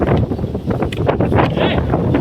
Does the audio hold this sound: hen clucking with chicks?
no